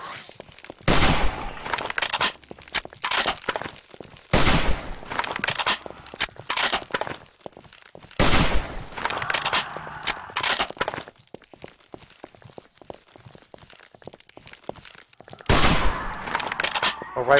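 Gunfire in the video game 7 Days to Die, with pistol or rifle shots cracking in loud bursts at irregular intervals, mixed with clattering game noises and footsteps.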